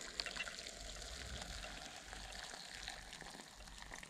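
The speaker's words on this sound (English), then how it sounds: "Pour all the stuff in and then the hot water," Hot water pours into an instant soup cup in a soft, continuous trickle, faint and close with a gentle liquid hiss throughout.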